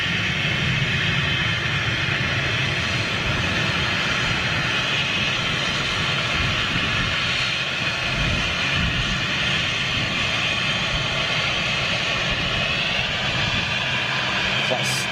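A Stobart Air Embraer jet airliner at London City airport gives a steady, loud engine roar that lasts about fifteen seconds, with voices murmuring underneath.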